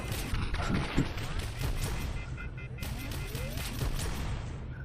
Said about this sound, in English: Oh my God, they're all firing at once.